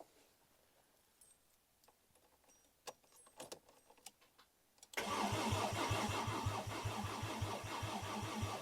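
A Mk2 GTI with a swapped five-cylinder engine starts up: quiet clicks and rattles, then the engine catches abruptly and settles into a loud, rough, pulsing idle with a rapid regular throb, close by.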